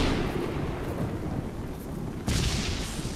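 Rumbling thunder rolls continuously through a lightning storm in Roblox Tornado Alley, loud and dense, with a sharper crack of a new strike breaking in near the end.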